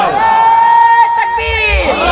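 A crowd at a Bengali Islamic religious gathering shouts Alhamdulillah together in one loud, sustained collective chant.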